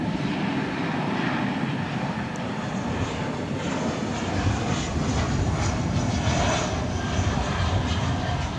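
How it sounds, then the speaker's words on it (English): Steady, loud roar of a Qantas Boeing 787-9 Dreamliner jet at DFW Airport, a broad continuous engine rumble that holds evenly throughout with no talk over it. "of Qantas to Sydney. And that aircraft, of course, is a Dash 9 Dreamliner."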